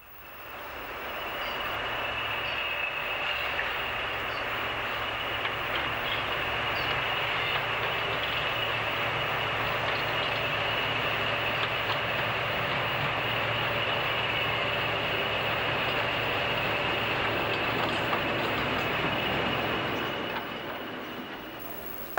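Two Class 50 diesel locomotives haul a rail tour train in 1993, a sustained loud engine roar with steady rumbling wheels that swells in and holds before fading at the end.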